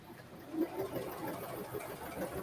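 A sewing machine stitches a leggings seam with a faint, steady motor whir and a soft rapid needle chatter that stays even throughout.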